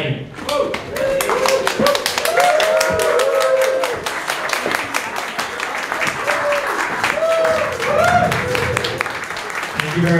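Applause and cheering from an audience at a bodybuilding-style stage contest, dense clapping running throughout with voices whooping over it, fairly loud and continuous for about ten seconds.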